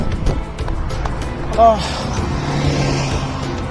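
Steady traffic on a busy road in Saudi Arabia, a constant roadside wash of passing cars with a brief louder whoosh, while someone talks over it.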